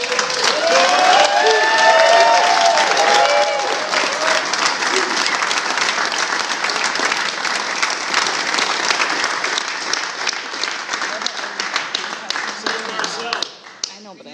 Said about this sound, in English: Let's give Chief a round of applause